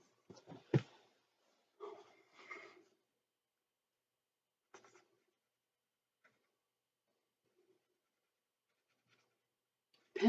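Colored pencils from a Colorpockit coloring system scratch across paper in a few quiet, short bursts of strokes separated by silent pauses.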